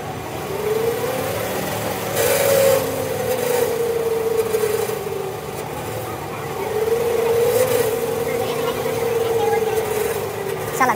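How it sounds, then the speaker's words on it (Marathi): At a Nashik farm expo, an electric tractor strains under its hydraulic lift load, its whine rising and sagging in two long swells over a steady hum, with someone speaking over it. "तो हायड्रोलिकवर उचलायला पण लोडवर येतोय"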